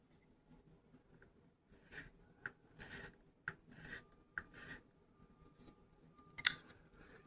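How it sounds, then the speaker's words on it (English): Abrasive paper is stroked across a clarinet mouthpiece during restoration, making soft separate scratchy rasps in an irregular series, faint and close against a quiet background. "I'm just going to take a little more now that I can take it evenly on both sides."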